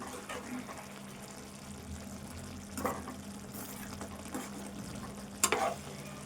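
Aloo pulao, potato rice, is stirred in a pot with a few scraping, scooping strokes over a steady low cooking hiss. The strokes come at scattered moments, loudest near the end, with no talk.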